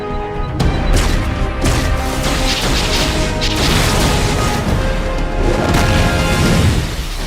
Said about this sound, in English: Cyborg, concentrate fire on Luthor while I call down some artillery